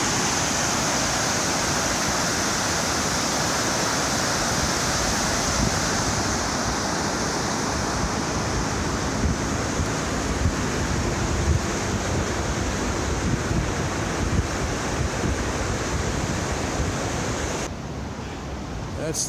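The Spokane River rushing and churning below the Centennial Trail, a loud, continuous broadband roar of falling water mixed with wind buffeting the microphone, steady throughout.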